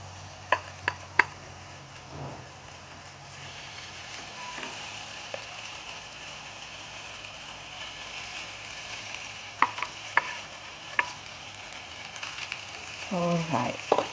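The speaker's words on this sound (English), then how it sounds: "So I start on to grill the fish." Marinated Indian mackerel grills in a pan greased with cooking oil, giving a soft, continuous sizzle with scattered sharp clicks and taps, and a brief clatter of utensils near the end.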